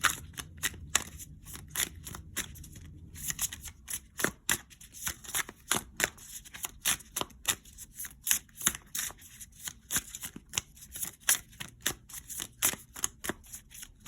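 Tarot cards being shuffled by hand, with a steady run of crisp riffling flicks and soft slaps close by, mostly alone with faint background.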